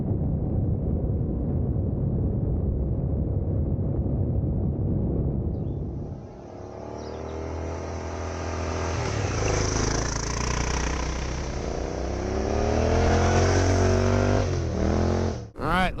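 A big bore dual sport motorcycle built as a rally bike rides along, its engine droning loud and steady, then climbing in pitch through the gears with rushing wind noise.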